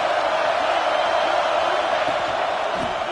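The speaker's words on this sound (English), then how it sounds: "This crowd ready to make its presence known." A stadium crowd at an Iowa versus Alabama college football game gives off a broad, steady roar of cheering, loud and continuous, with a commentator speaking over it.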